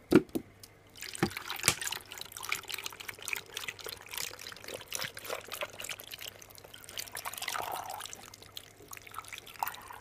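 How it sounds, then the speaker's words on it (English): Water trickles and splashes into a blender jar, a quiet continuous pour with scattered drips and a faint low hum beneath. "I'm just gonna fill some water in my blender."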